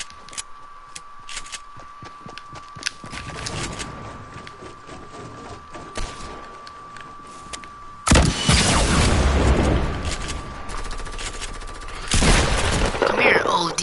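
Gunfire in a shooter game during a solo match: scattered sharp single shots over a steady electronic hum, then two long loud bursts of rapid automatic fire, with voices talking at times.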